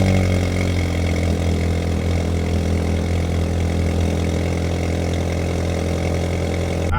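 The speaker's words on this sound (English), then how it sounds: "let's get a cold start." A Volkswagen GTI engine idles steadily after a cold start, giving a loud, continuous low hum with a constant rhythm and no pauses for the whole stretch.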